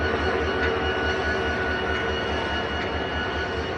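A diesel locomotive engine waiting at a railway station, a steady low throbbing idle with a broad rumble holding constant throughout, close by and without talk.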